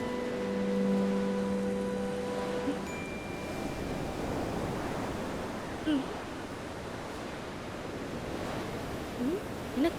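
Steady broadband wash of sea waves on a shore, continuous and fairly loud, with a held musical tone at the start and a couple of faint brief chirps over the surf, no talking.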